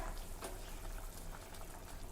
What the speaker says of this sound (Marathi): तुम्ही बघू शकता सूपला अगदी व्यवस्थित उकळी आली आहे